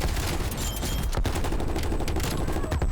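A Galil rifle with no attachments fires in Call of Duty: Black Ops Cold War, loud rapid bursts of close gunfire hammering almost continuously throughout.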